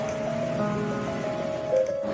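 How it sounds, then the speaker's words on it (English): Heavy rain falls at night in Italy, a steady close hiss that never lets up, with a faint humming tone running underneath. "Italy is raining heavily tonight."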